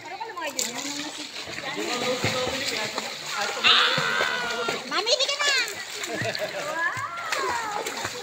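Water splashes and sloshes as people swim, under lively chatter from children and adults close by, in the Philippines.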